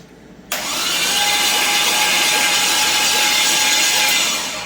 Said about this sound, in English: cranks over, it's got really good compression